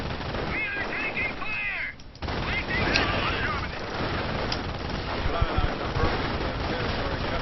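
Rapid bursts of gunfire ring out from a video game firefight, with sharp cracks scattered across the clip and a steady bed of battle noise underneath.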